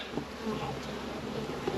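Honey bees buzz in a dense, continuous swarm from an opened hive in New Zealand, a close, steady drone filling the short stretch with no talking.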